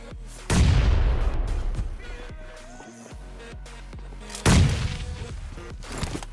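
Two heavy booms from a grenade explosion in BGMI gameplay, each with a loud blast and rumbling decay, over game sounds and background effects.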